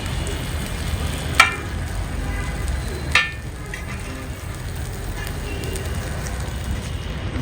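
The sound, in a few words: Coral fish and potatoes frying in oil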